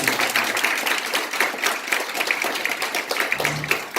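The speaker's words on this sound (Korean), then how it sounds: "박수 부탁드립니다." Steady crowd applause for a panelist being introduced at a debate forum, dense clapping filling the whole stretch at moderate volume, heard from within the room.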